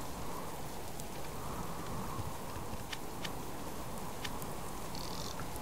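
Rain falling steadily in the survival game Subsistence, a constant, even hiss with occasional faint drips and taps, no voices.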